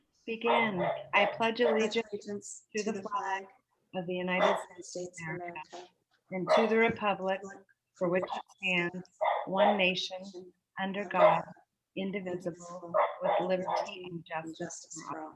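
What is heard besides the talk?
dog barking in the background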